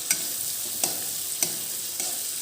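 Pork fries with cabbage and onion in a pan, a soft steady sizzle broken by four sharp scrapes of a spoon as the mixture is stirred, close by with no talking.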